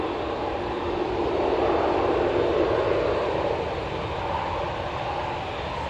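A Qatar Airways airliner at Manchester Airport runs its engines in a steady, broad, rumbling roar that swells slightly midway and then holds, loud and close, with no talking.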